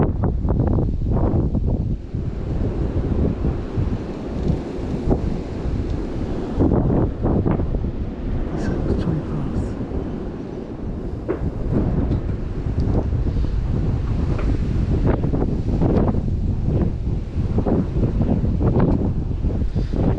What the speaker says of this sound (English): Gusts are horrible